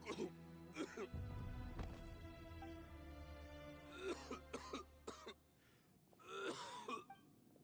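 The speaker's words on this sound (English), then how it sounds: "Why is he coughing?" A man coughs several times in rough, scattered bursts over a low background hum in a Genshin Impact cutscene, with a few strained vocal sounds between.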